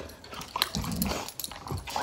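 A young pet puppy whimpers and yips close by in short, excited bursts, with soft snuffling and chewing sounds between the cries.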